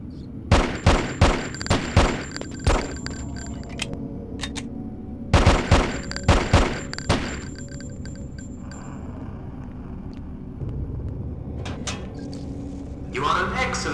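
Rapid pistol shots from a .45 ACP handgun in the game Hitman: Codename 47, two loud bursts of closely spaced cracks with echoing tails, then quieter ambience and a few stray clatters.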